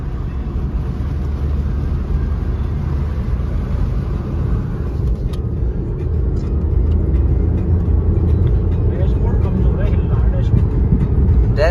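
A Tata car travelling along a road at speed gives a steady low engine and road rumble, with someone talking over it throughout.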